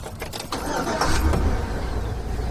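A pickup truck engine starts and settles into a steady, close running rumble after a few brief clicks and rattles at the start.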